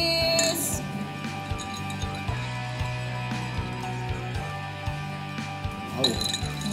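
Glasses clink together in a toast at a backyard farm barbecue, a few bright chimes at the start and again near the end, with chatter and a low hum in between.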